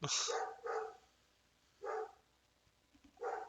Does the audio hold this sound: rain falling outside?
no